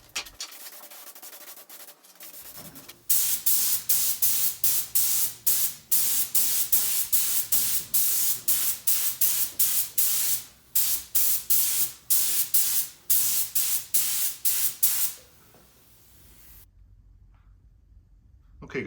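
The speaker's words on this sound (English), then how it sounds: "I'm gonna mix it up and put it in my sprayer, and we'll give it a coat and see how she looks." A paint sprayer lays high heat paint onto a Honda GX160 engine in loud rapid hissing bursts, many short pulses in quick succession for about twelve seconds, preceded and followed by quiet background.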